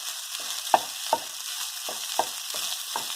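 Rice frying in oil for local-style Hawaiian bar food fried rice, a steady sizzle in a pan broken by regular scraping strokes of a spatula stirring it, close and without talk.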